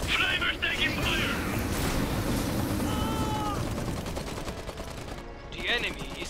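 Gunfire in an Iron Harvest multiplayer battle, steady crackling shots and explosions under continuous combat noise, with voiced unit callouts heard over it.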